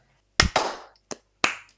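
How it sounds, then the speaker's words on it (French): A small group gives a brief, close burst of applause for Brice: a few sharp, separate handclaps in uneven bursts with quiet gaps between them and no voices. "Ce sera un applaudissement pour Brice."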